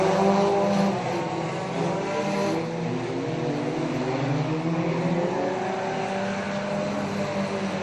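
Pack of 4-cylinder bomber stock cars racing on an oval track, a loud, steady multi-engine drone with overlapping motor tones sweeping as the field passes.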